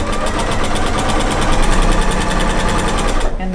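A regular domestic sewing machine machine-quilting a quilt, a loud, fast, even stitching rattle running steadily and close by, stopping abruptly at the end.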